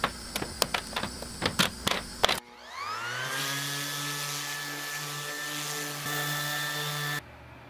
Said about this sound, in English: We cut the fixture holes on our CO2 laser.